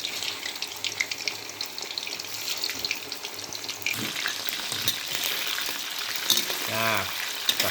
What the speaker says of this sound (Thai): นี่ครับมาทอดหมูต่อเลยครับ หมูทอดนะครับ